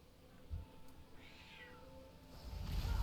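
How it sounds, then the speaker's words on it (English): A pet cat gives a single drawn-out meow near the middle, faint and close by, with some background rustling and a louder low thump toward the end. "My cat would like to say hello to everybody."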